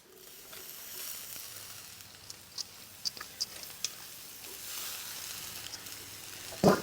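Grated coconut and boiled vegetables frying in a pan, a steady faint hiss of sizzling with scattered tiny pops and ticks, close and low in level.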